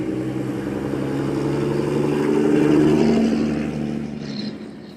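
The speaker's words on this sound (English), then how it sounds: "there was a vehicle going by" A vehicle drives past outdoors, a broad low rumble that swells to a peak midway and then fades as it moves away, with no talking over it.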